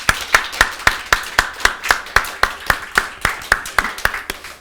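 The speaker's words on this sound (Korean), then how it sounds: "우리 17기 이번에 양육받는 분들 힘내시라고 우리 박수 한번 쳐줍시다" A church congregation at a Sunday service claps together in a steady, evenly spaced rhythm, sharp hand claps repeating about four times a second, close and fairly loud without talk.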